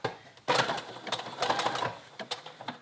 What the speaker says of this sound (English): I'm going to do the bar tack here now that it's back down. Change my stitch to a zigzag